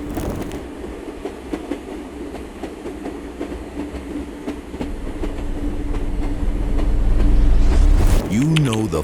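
The Kalka-Shimla toy train rumbles along its century-old, hand-built mountain railway with steady rolling clatter that swells louder near the end, and a voice briefly comes through over the noise.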